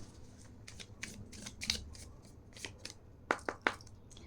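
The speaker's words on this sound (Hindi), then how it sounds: "Last shuffle." Tarot cards being shuffled by hand, a run of crisp riffling snaps and flicks, close and fairly quiet, ending in three sharper clacks.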